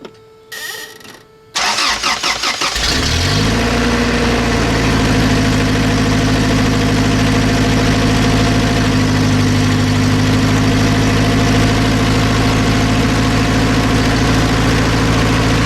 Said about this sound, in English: I'm gonna fire it up and just see what it sounds like.